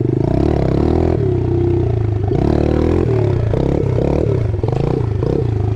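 Yamaha 110 motorcycle engine revving loud and close during a wheelie, throttle rising and falling in steady surges with some clatter, no talk.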